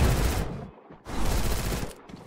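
Loud, close gunfire from the Free Fire video game comes in two dense rattling bursts separated by a brief lull.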